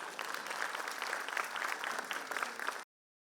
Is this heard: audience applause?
yes